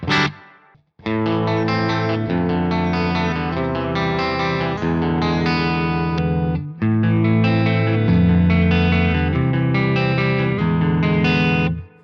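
A distorted electric guitar through an Ampknob BDM JVH 410 amp preset with a Marshall-style tone plays loud, heavy sustained chords and riffs, with a brief pause near the middle before continuing.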